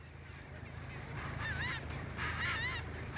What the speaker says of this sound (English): A large colony of chinstrap penguins lives on the 2-kilometer-long Half Moon Island